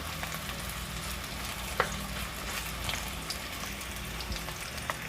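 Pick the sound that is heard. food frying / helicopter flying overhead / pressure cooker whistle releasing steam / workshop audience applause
food frying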